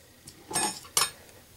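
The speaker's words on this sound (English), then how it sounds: "A piece of silverware or something with a blunt side that you can use." Metal silverware clinks against dishes as it is picked up, two short bright knocks close by with a faint tick between, and no talk.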